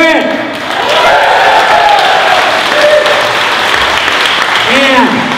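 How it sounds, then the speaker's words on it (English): A large audience applauds steadily at a Corvette giveaway award ceremony, with dense sustained clapping throughout. A person speaking over an amplified sound system can be heard above the applause. "Another big round of applause for New Beginning Children's Homes and all of the good that they do in the world"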